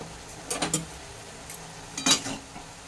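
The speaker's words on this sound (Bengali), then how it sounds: "এটাকে একটু নেড়ে চেড়ে দিচ্ছি সব জায়গায়, এই মশলাটাকে একটু মিশিয়ে নিচ্ছি।" Spoon or spatula stirring ginger paste and mixed coriander-cumin powder into soft-cooked bottle gourd in a pot, giving a few brief clinks and scrapes in two small bursts against a quiet kitchen background.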